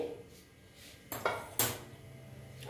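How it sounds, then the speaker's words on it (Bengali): A heavy metal kadai set on a gas stove: a couple of sharp clanks and a scrape spaced a fraction of a second apart, close and fairly loud against a quiet kitchen, with no talking. "আর দেখো কড়াটা বসিয়ে দিলাম"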